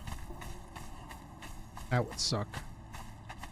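Hooves clip-clopping from a horse in the video game Conan Exiles, a short rhythmic run of thuds under steady background ambience, with someone briefly talking over it.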